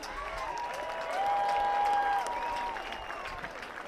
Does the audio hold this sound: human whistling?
no